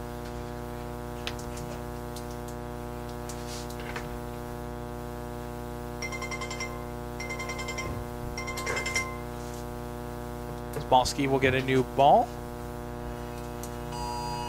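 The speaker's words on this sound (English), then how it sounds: "you can hear all of the Amber Alerts going off now on everybody's phone" Emergency tornado warning alerts sound from phones in the crowd at a youth baseball championship game, with repeated beeping tones and chirps under steady background hum while an announcer speaks.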